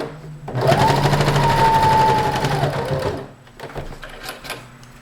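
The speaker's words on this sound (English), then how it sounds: "you're going to sew this into a tube and then you're going to sew this into a loop" A sewing machine stitches fabric into a tube for a bow, a loud, close continuous motor whir with rapid needle chatter lasting about three seconds, then fading into faint handling noises.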